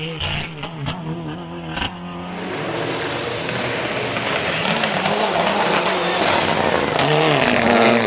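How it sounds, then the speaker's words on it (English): An ex-Tommy Makinen Mitsubishi Lancer Evo four-wheel-drive rally car launches off the line at a Rally GB hillclimb, its engine note rising from a low idle to a loud, sustained rev that climbs in pitch as it pulls away. "off the line goes the ex-Tommy Makinen Mitsubishi Lancer Evo"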